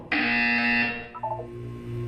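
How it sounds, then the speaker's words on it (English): A harsh electronic buzzer in the Portal 2 video game blares loudly for about a second, then drops into a couple of shorter lower tones before a quiet hum remains. "When you hear the buzzer, look down at the floor."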